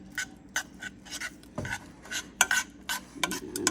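Tomato paste cooking in a pan, heard as repeated scraping and stirring strokes of a utensil against the pan over a soft sizzle, close and rhythmic with no voices.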